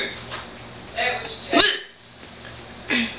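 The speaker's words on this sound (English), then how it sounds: "today I have hiccups. It's very annoying" Hiccups from a person, three separate sharp hiccups at roughly one-and-a-half-second intervals, close and fairly loud, with a quiet room behind and no talking.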